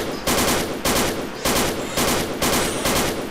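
Loud close automatic gunfire in a first-person video game, several dense sustained bursts separated by short pauses as a player fires at an invisible enemy.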